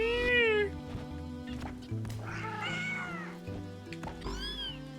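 A video game enemy gives cat-like meows and caterwauls, several rising and falling yowls in quick succession over a low background drone, close and fairly loud.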